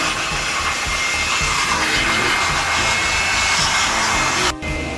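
A blower dries a car in a garage, a loud steady rushing roar that fills the whole clip without a break and drops out for a moment near the end.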